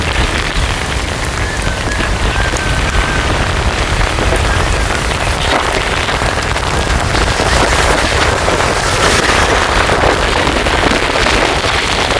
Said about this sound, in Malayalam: ഭയങ്കരനൊരു മഴ വരുന്നുണ്ട്